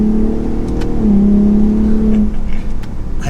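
Ford F-150 Raptor exhaust revving up, a deep steady engine drone that rises in pitch and holds, heard close and loud with no talking.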